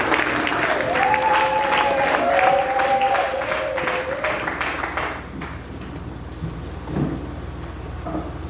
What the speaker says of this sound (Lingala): Asseyons-nous et acclamons notre Dieu